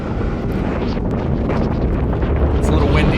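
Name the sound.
wind blowing on microphone at rocket launch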